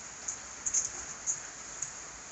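Steady rain hisses down on a wet farm day, with a continuous faint wash and a few brief, sharper drip taps.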